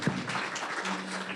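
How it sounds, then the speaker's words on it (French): Brief burst of audience applause at a summer programme unveiling in Ville-Marie, a steady wash of clapping lasting just over a second. "Une bonne main d'applaudissement."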